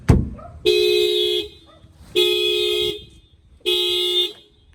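A 2019 Honda Civic Type R horn sounds three evenly spaced honks, each about half a second long and fairly loud, after a short click at the start.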